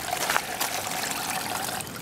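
Water trickling and pouring back into a mobile sluicing tub used for gold prospecting, a light continuous dribbling splash at close range.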